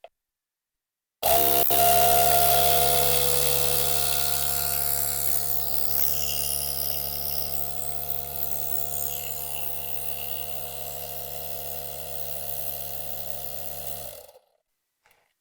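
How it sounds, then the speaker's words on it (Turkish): A Utrai Jstar 5 portable tire inflator runs with a steady, buzzing mechanical drone, loud and close, starting abruptly and cutting off after about thirteen seconds. "Bu lastik şişirme kısmı böyle arkadaşlar."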